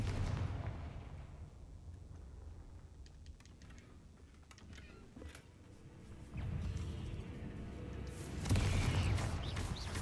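Confringo fire-blast spell explosions in Hogwarts Legacy, fought against a giant spider: a low rumbling game soundscape with booming bursts swelling louder toward the end, no voices.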